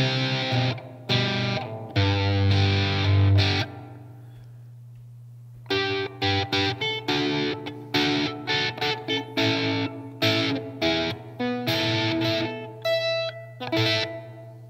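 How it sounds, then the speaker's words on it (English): A Fender Stratocaster on its bridge pickup runs through a TC Electronic SkySurfer reverb pedal set to a spring-like sound, playing loud, ringing chords and picked notes with a brief silent gap and lingering reverb tails. "Sounds like a spring reverb."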